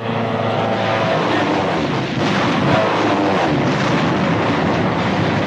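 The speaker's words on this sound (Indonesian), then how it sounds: "Namun tiba-tiba pesawat Jepang melintas dan menurunkan serangan udara secara mengejutkan." Japanese aircraft roar overhead during a surprise air raid in a Pacific war film, a loud dense engine drone that holds steady throughout, with a narrating voice underneath.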